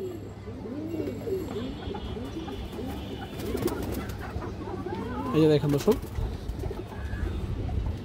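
Pigeons in a cage coo in repeated low, rolling calls, a steady murmur under someone talking nearby, with a louder burst midway.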